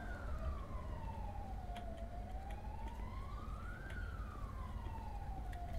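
An emergency vehicle siren wails in a roleplay video game set in Antwerp, a slow rising and falling tone over a low engine rumble, fairly distant and steady, with no talking.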